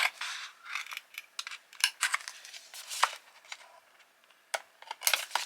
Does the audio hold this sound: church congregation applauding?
no